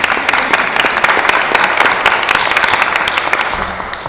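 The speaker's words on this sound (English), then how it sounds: "Let's give them a round of applause." An audience at an interfaith community forum applauds a panel, a dense, loud, steady burst of many hands clapping close by that lasts throughout without letting up.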